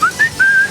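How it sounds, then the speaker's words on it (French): A short human whistle in three clear notes, rising slightly from one to the next, the last held longest, close and fairly loud. "un petit début de sifflement"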